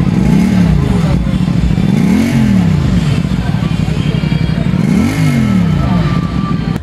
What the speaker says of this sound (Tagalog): naka 270 degree crank firing na ito, kaya naman mas maangas itong tumunog na parang inline 4